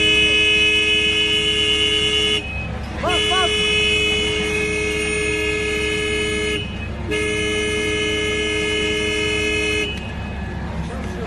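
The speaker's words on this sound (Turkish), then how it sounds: "Kornaya bas. Bak kornaya bak kornaya." Car horn blaring in long sustained blasts with short gaps between them, set against a building demolition, as a person talks nearby.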